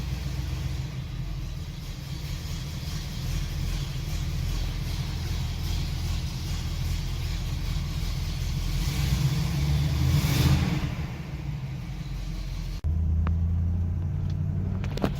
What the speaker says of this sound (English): Finally driving the 66 Toronado.